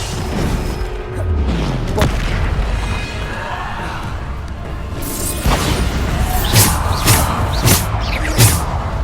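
Bombarda explosion spells go off in the Hogwarts Legacy video game, heavy booming blasts and thuds repeating through dense in-game combat noise.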